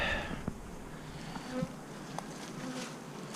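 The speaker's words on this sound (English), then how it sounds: "Got 4 beehives here. Everybody seems to be flying pretty good here." Honey bees flying around four beehives in a bee yard, a soft continuous buzzing with individual bees zipping past the microphone, fairly faint and close outdoors.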